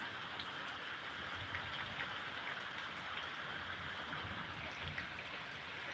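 Steady rain falls in a hilly area, a soft, even hiss of drops holding at one level throughout with no voices over it.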